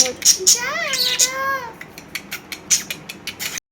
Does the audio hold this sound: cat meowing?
yes